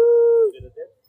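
A dog gives a single loud, steady, close howl that holds its pitch for about half a second, then dies away into a few soft whimpers and faint noise.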